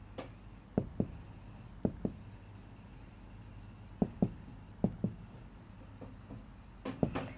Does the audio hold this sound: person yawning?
no